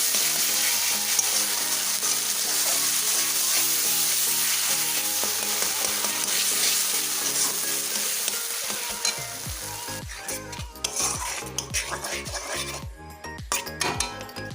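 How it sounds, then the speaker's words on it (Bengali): Ground kakrol filling frying in a little oil, a loud bright sizzle with stirring, then sharper repeated clanks and scrapes of a utensil against the pan toward the end. "তো আমি দেখো সামান্য তেল দিয়ে দিয়েছি, এখন এটাকে আমি ভেজে নেব।"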